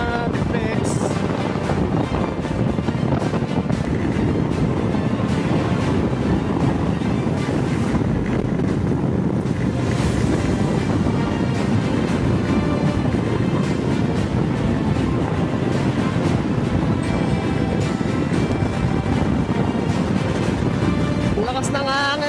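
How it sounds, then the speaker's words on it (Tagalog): Strong wind roars continuously into the microphone during a motorcycle ride on a Honda NX500 or CB500X, a loud, steady buffeting rush with no letup. "Lakas ng hangin!"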